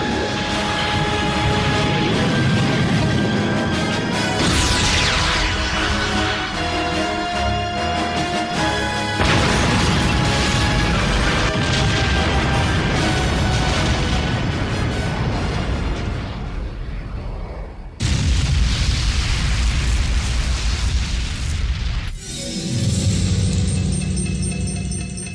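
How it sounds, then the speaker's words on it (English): A missile fires and explodes in an animated robot series, a dense, loud roar of blasts and rumbling that continues across the scene, with abrupt cuts into new bursts and no speech. "Missile engaged and targeted."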